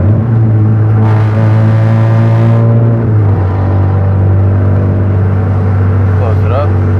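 A car engine runs with its integrated exhaust cutout opened, producing a loud, steady droning note rich in harmonics, with a short raspy surge early on before settling back into the constant drone.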